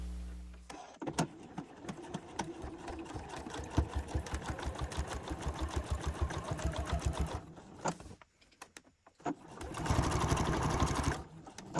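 A sewing machine bastes a welt onto a garment pocket, running in a fast, rhythmic stitching burst, pausing briefly, then stitching again, close and clear with no talk.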